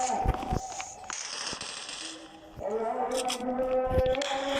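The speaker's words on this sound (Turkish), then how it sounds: "Bundan bomba at, buradan bomba atmaya çalışacağız." Bomb blasts in the mobile shooter game Zula Mobile: a few sharp, crackling bursts near the start and again near the end, set against busy in-game noise with a steady tone running underneath.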